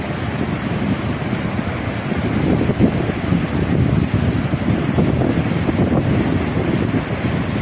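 Swat River water flowing beneath a riverside hotel, a steady, dense rushing roar close by with gentle surges, continuous and unbroken, with no voices.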